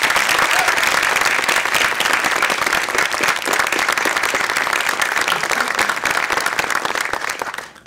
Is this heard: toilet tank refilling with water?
no